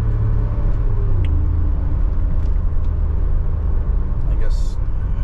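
Mercedes-Benz G63 with 500 horsepower pulling hard from inside the cabin, a loud, steady low engine rumble that barely changes in pitch, with people talking over it.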